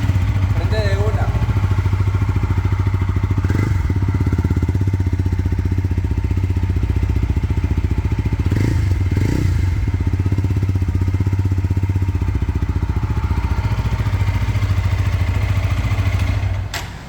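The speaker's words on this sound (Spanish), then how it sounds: "Quita el micrófono para ver cómo se escucha el tema del sonido del motor." A 2025 TVS Apache 160 4V motorcycle engine, fuel-injected, runs steadily at idle with a low, constant rumble throughout, then cuts off abruptly at the very end.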